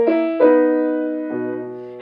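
Solo piano works through a Chopin ornamental passage slowly, setting eight notes against three between the hands; a few sustained chords ring close and clear, with no voices.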